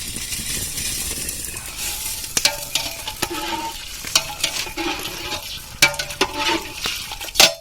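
Ration rice tipped into a pot of boiling water for chicken dum biryani: a steady bubbling hiss with scattered splashes and sharp clinks of grains and utensil against the pot, fairly close.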